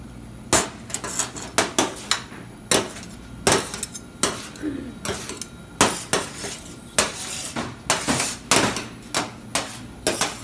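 Sushi rice being mixed and spread in a bowl during a sushi class, a series of sharp clacks and scrapes of a paddle against the bowl in an irregular rhythm, close and fairly loud, with some talk between strokes.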